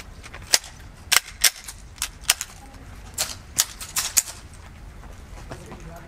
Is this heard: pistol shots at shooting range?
yes